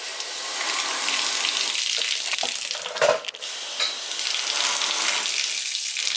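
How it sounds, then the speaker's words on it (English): A garden hose sprays water into the frame rails of a 1970 Dodge Super Bee to flush out dirt, a loud, steady broadband hiss and splatter, briefly disrupted midway as the stream shifts. "We're going to get the hose out here."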